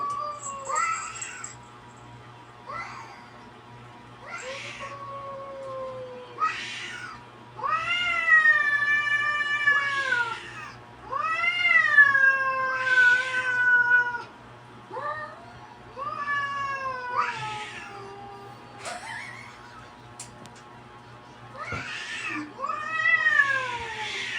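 Two cats fighting let out a run of loud, drawn-out yowls and rising, wailing meows in repeated bursts, with short quiet gaps between them, over a low, steady background hum.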